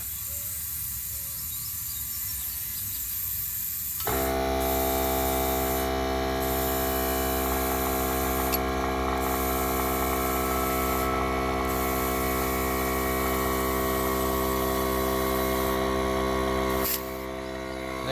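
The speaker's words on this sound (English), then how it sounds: "you heard the compressor kick on" A SUN JOE iONMAX 40-volt cordless air compressor switches on after a few quiet seconds and runs loud and steady with a droning motor hum, inflating a flat tire, then cuts off near the end.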